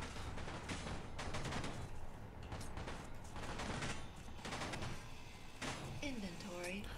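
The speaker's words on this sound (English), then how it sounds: "They're still all shooting." Dense, continuous gunfire from a Space Engineers battle, rapid repeated shots and mechanical clatter under a person talking over the game.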